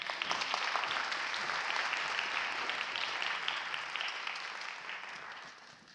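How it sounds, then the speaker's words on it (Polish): Audience applauding at a pole sport championship medal ceremony in Kielce, a steady burst of clapping that holds for several seconds before fading toward the end. "Brawa, proszę Państwa."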